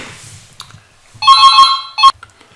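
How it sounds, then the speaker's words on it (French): A telephone ringtone sounding during a Blender tutorial, a loud electronic ringing tone lasting under a second, then a second short burst after a brief gap, with faint sounds before it. "Donc c'était Christelle au téléphone"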